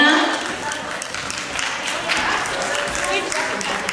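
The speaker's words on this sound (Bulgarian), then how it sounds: "Специални аплодисменти за Марина." Applause at a mathematics tournament awards ceremony in Sofia, with a broad, steady patter of clapping from a crowd that carries on throughout with some background murmur.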